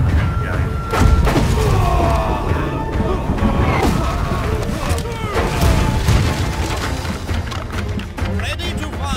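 Ship cannons firing in the naval battle game Blackwake, loud heavy booms and thuds scattered through a busy mix of game noise and voices talking.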